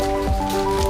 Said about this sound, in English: I'm going to dump some into this bowl and start adding a little water and mixing it